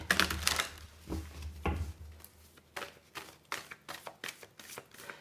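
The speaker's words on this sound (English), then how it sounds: "Just going to give an extra shuffle." Tarot cards are shuffled in quick, crisp bursts of riffling and tapping, close and fairly quiet, with short pauses between the rustling strokes.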